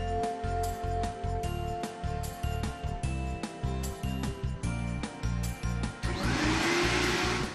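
A vacuum cleaner motor drones up close in a pulsing, stop-start rhythm, then settles into a continuous loud whooshing roar.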